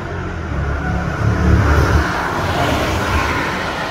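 A BMW X6 50i (F16) twin-turbo V8 with xDrive all-wheel drive revs up strongly, its engine note rising, then dips through a gear change and pulls on with a steady drone, loud and close.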